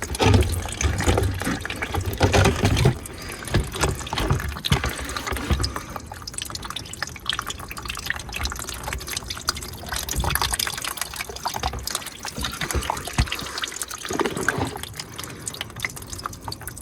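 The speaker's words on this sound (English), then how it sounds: "That's how you drain the radiator, bottom driver's side." Coolant drains from the bottom driver's side of an Astra G radiator as a continuous close splashing, trickling stream of liquid, steady throughout with no voices.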